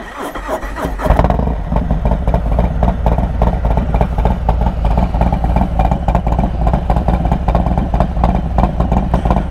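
A 2021 Harley-Davidson Road Glide Special with S&S 475 cams and Bassani exhaust cranks and fires up, then settles into a loud, close, lumpy idle with a rhythmic thumping pulse.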